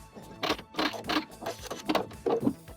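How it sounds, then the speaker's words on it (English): Sewing machine back stitching trim onto fabric with an open toe presser foot, short bursts of close mechanical needle clatter, about five quick runs separated by brief pauses. "Now that we're done, I will back stitch"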